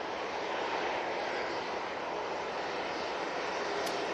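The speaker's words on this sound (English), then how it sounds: "And that TUI 737 off to Harnia" A TUI Boeing 737 takes off at Manchester Airport, its jet engines a steady, even broadband roar that holds at constant loudness throughout, with no voices.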